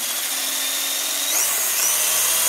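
A brushless RC10 GT2 car with a Castle 5700kv motor whines as it accelerates, a loud high-pitched electric scream that climbs in pitch and intensity over a couple of seconds.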